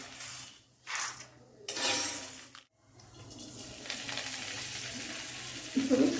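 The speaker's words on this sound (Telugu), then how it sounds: "ఇప్పుడు కొత్తిమీర వేయించేస్తున్నాను." Coriander leaves fry in a pan for a homemade pickle, with bursts of sizzling and stirring that flare and fade, then settle into a steady quieter sizzle.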